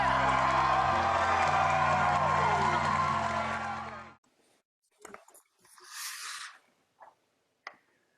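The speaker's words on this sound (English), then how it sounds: "It's always nice to come into a round of applause, even if it's a little canned there in our opening" Canned studio applause and cheering from a crowd open a church chat show, a loud sustained wash of clapping and whoops that cuts off abruptly, followed by faint scattered sounds.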